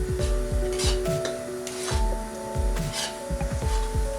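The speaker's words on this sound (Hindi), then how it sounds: "आटे को चलाते हुए भूनेंगे" Metal spoon scraping and clinking in a pan as wheat flour is stirred and roasted in ghee, with repeated rhythmic scrapes and soft frying hiss, close up and without speech.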